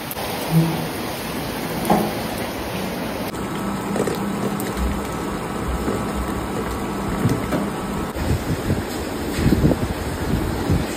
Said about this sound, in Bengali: বাইরে চরম বৃষ্টি হচ্ছে